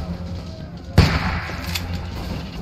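A gunshot in The Walking Dead video game gives one sharp, heavy blast partway through, then a lingering tail. Game ambience plays underneath, and a voice speaks briefly.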